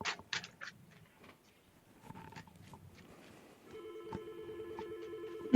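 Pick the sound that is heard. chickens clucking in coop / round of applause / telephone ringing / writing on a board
telephone ringing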